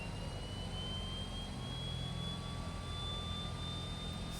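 De Havilland Canada DHC-6-300 Twin Otter left turboprop engine starting, a steady rising turbine whine with a thin high tone slowly climbing over a low rumble of the already running right engine, continuous and fairly loud.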